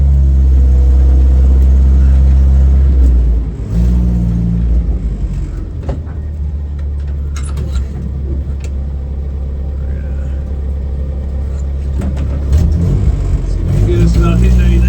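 A 1960s International Scout, 57 years old, plows snow outside a garage. Its engine gives a loud, steady low rumble throughout, with a voice talking over it.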